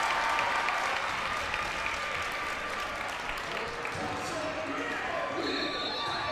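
A basketball crowd at a high school boys' and girls' doubleheader cheers and applauds loudly and steadily after a play, with a broad, continuous roar filling the gym and a commentator's voice faintly underneath.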